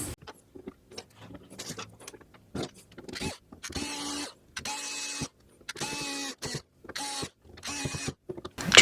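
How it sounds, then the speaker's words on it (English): Screws driven by a powered driver into a plastic pond pump housing during a koi pond pump repair, heard as repeated short whirring bursts with pauses between them, close and loud, with no talk. "Get these screws in."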